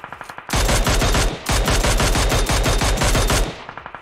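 Automatic gunfire at a shooting range in an online shooter game: loud, rapid evenly spaced shots in long sustained bursts, with brief single-shot pauses at the start and end.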